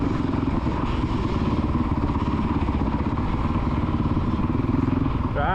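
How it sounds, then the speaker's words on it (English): A motocross dirt bike engine revs steadily and loudly up close on the Astley MX main track, a continuous buzzing drone with a voice briefly heard over it. "Right, rev it up now"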